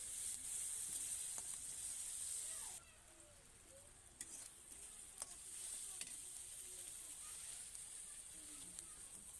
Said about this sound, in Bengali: দেওয়ার পরে ভালোভাবে ভেজে নিচ্ছি।